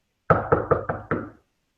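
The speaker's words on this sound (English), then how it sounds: "what it would look like would be knocking on the door" Five firm knocks on a door in quick succession, close and loud, with no voices, part of a dog training session.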